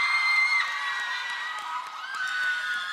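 A crowd of fans at an SF9 showcase cheers and screams continuously, with high-pitched shrieks and whoops and some clapping mixed into the din, loud and sustained throughout.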